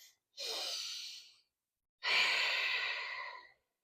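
Two long, audible breaths during a yoga stretch, a drawn-out airy inhale followed by a fuller, slightly louder exhale, close to the listener with silence between them.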